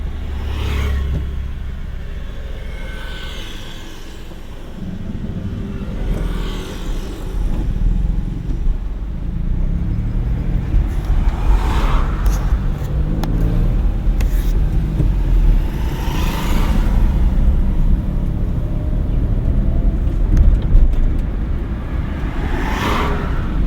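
A car pulling away in first gear during a driving lesson, its engine droning and rising steadily close up for over twenty seconds, with road and cabin rumble and no talk over it.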